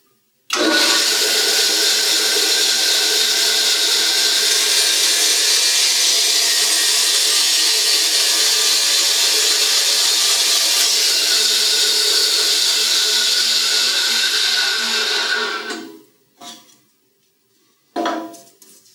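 A bandsaw cuts through a chunk of 2x4 wood in one long, loud, steady whining cut lasting about fifteen seconds, then winds down, followed by a couple of brief knocks.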